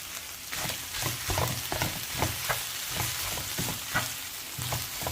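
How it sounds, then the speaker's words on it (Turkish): Grated potatoes with spices fry in a pan while being stirred, giving a continuous close sizzle broken by rhythmic scraping strokes of the spoon, with no voices. "Buraya şimdi rendelediğimiz patatesimizi de verelim. Bir iki tur çevirelim."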